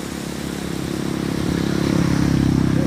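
Strong current of floodwater still running high in Milaor, Camarines Sur, nearly two weeks on, making a steady, loud broadband rush that swells slightly louder toward the end.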